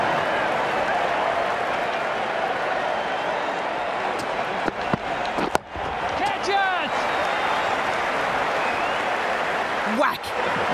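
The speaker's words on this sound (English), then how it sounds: "The crowd on their feet." Virtual stadium crowd in an Ashes Cricket PC game of India versus Australia, a steady loud roar of cheering throughout, with a few sharp knocks and a brief swell near the end.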